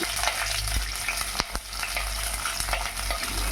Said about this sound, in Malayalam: എണ്ണ, ഉലുവ, ചെറിയ ഉള്ളിയും കൂടി ചേർത്ത് ഒന്ന് ഇളക്കി കൊടുക്കുക.